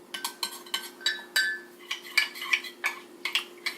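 A utensil scrapes and clinks against a pot while a cornstarch and milk mixture is stirred over heat, producing a steady rhythm of close metallic taps.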